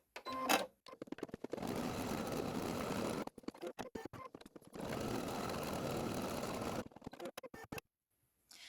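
An embroidery machine stitches an applique tack-down line in two long bursts of rapid, rattling needle strokes, separated by short pauses and clicks as the hoop shifts, heard close and alone.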